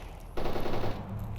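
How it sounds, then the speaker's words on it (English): A suppressed AK rifle in the video game S.T.A.L.K.E.R. Anomaly fires a sustained rapid burst of muffled shots that starts abruptly after a brief low rumble and stays fairly loud, with no talk. "that's a suppressed AK"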